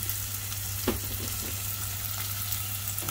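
Garlic, onion and ginger sauté in a pan, giving a continuous close sizzle with a steady hum underneath and a single clattering stir partway through, and no voices.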